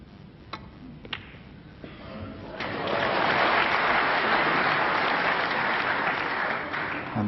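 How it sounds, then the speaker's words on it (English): Snooker crowd at the 1998 Masters final: a few sharp ball clicks, then a swelling round of warm applause from the audience that holds steady, fairly close and full, with no talk over it. "And the crowd here appreciating that."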